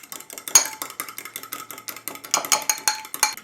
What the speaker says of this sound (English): I'm just gonna whisk those together